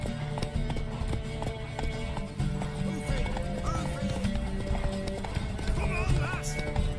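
Horse galloping in a horse race in The Witcher 3 video game, rapid rhythmic hoofbeats with neighs and whinnies, layered under music and spoken game dialogue throughout.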